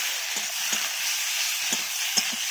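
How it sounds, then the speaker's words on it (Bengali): Koi fish being stirred in a pan with turmeric and chili powder, a constant hissing sizzle with a few soft scrapes and knocks of the spoon, steady and close with no talking. "ভালো করে নেড়ে চেড়ে নিচ্ছি"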